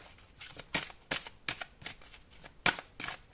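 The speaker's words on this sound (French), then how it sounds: "Allez, on prend 2 autres cartes." Tarot cards are drawn and shuffled from a deck, giving a series of soft, papery flicks and snaps at irregular intervals. The sound is close and fairly quiet, with no talking.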